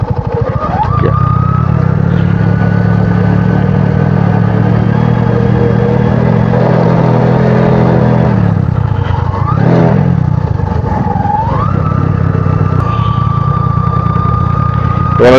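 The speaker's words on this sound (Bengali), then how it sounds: "আমি একটা গিয়ার ডাউন করে দিই।" A motorcycle climbing a steep road after a downshift holds a loud, close, steady engine drone. The revs dip and then climb again partway through before settling back into an even pull.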